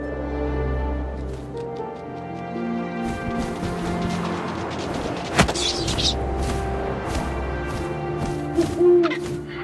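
An owl hoots in the video game What Remains of Edith Finch over a low rumble of wind, with scattered rustles and a sudden thump.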